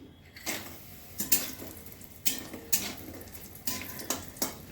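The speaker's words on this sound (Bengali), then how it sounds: "বড়ি কটা ভেজে নিচ্ছি" Bori lentil dumplings fry in oil in a pan, with a clattering utensil stroke every second or so over a soft, steady sizzle.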